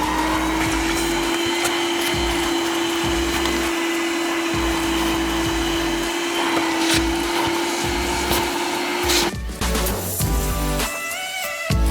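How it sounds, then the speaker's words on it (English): A vacuum cleaner runs steadily inside a Honda S2000 interior, a loud constant whine with a strong steady tone, the pitch shifting and sputtering briefly near the end as the nozzle moves over surfaces. "I'm going to start with a vacuum."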